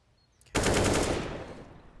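A burst of rapid automatic rifle fire in Counter-Strike, sprayed through a wall in a professional match, erupts abruptly and rattles on in quick succession before tailing off, loud and close.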